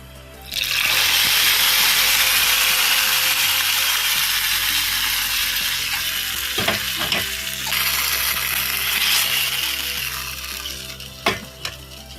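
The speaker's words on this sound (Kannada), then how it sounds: "ಈ ಎಣ್ಣೆ ಬಿಸಿಗೆನೆ ಕರಿಬೇವು ಸೊಪ್ಪು ಚೆನ್ನಾಗಿ ಫ್ರೈ ಆಗ್ತಾ ಇದೆ" Curry leaves tempering in hot oil for a pineapple gravy, a loud continuous close sizzle and spatter with a few sharp clinks of a utensil near the end, no talk.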